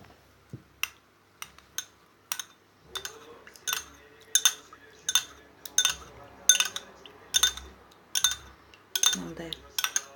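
Whisk or spoon clinking repeatedly against a bowl while cognac is mixed into egg yolk for a homemade shampoo, a steady series of sharp close taps with faint handling noise between them.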